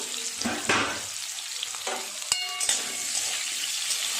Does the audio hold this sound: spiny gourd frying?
yes